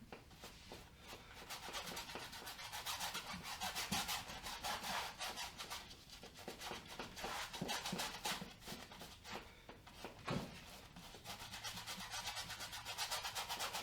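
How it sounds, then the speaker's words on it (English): A paintbrush scrubs acrylic paint vigorously onto canvas for a seascape sky gradient, giving a steady, close, soft rasping rub that continues without pause throughout, with no voices. "You can see I'm scrubbing that fairly vigorously to get that paint on."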